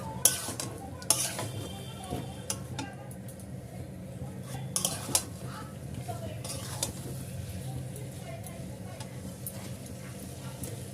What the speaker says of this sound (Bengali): এবার আমি দিয়ে দেবো ভেজে রাখা আলু আর চিংড়ি মাছ। এগুলো আমি এবার নাড়াতে থাকবো।